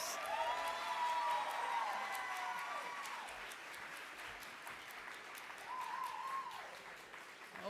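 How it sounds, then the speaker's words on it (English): An audience at a keynote address breaks into a big round of applause, sustained clapping with cheers and a couple of long whoops carrying over the crowd, fairly distant and gradually easing. "why don't y'all celebrate yourselves tonight with a great big round of applause?"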